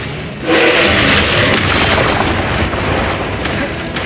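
Confringo fire spell from Hogwarts Legacy bursts into a loud, sustained explosive roar that starts abruptly and rumbles on for several seconds, alone without talk.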